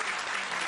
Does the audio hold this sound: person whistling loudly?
no